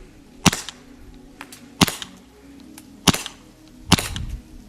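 Four sharp, loud cracks come from a Tokyo Marui USP full-size gas blowback airsoft pistol, spaced roughly a second apart, each with a brief metallic slide clack, close by and without talking.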